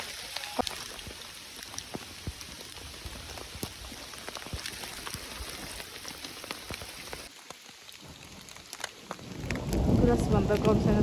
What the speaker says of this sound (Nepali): असिना यस्तो बाक्लो परेको